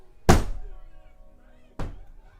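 Two sharp, heavy thuds of a door being banged indoors, about one and a half seconds apart, the first louder and each fading with a short ring.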